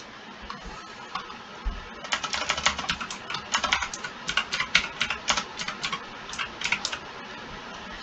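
Computer keyboard keys clatter as code is typed, with quick irregular bursts of clicks starting at about two seconds and running steadily to the end, close and clear with no talk.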